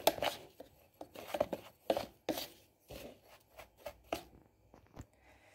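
Dry oat pancake ingredients with baking powder and cinnamon are stirred in a bowl, quiet irregular scraping and tapping strokes up close, with no talking.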